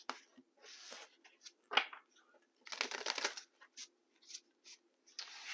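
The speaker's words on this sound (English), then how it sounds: "One more shuffle." Soft, intermittent riffling and sliding of tarot cards being shuffled close by, in short bursts with quiet gaps between.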